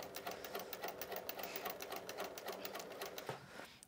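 Domestic sewing machine running a long gathering stitch on a blouse, a steady rapid mechanical rattle of needle strokes, close and fairly quiet, stopping briefly near the end.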